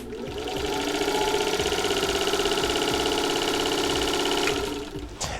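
A vintage Singer sewing machine, a restored 301A-type model, runs steadily for several seconds with a fast, even mechanical whir and rhythmic needle clatter, close and fairly loud, then slows and stops near the end.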